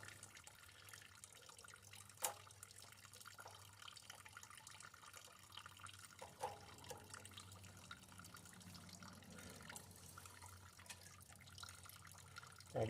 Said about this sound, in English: That gas draining out makes it sound like somebody's standing in the bathroom.